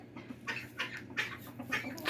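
Backyard chickens cluck softly inside a coop, a few short, fairly faint calls repeating at irregular intervals over low background noise.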